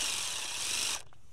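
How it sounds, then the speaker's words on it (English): Drill-mounted tin snips cutting corrugated metal give a loud, continuous high-pitched grinding whir that stops abruptly after about a second. "this corrugated metal, one of these tin snips that goes on your drill or on your impact driver"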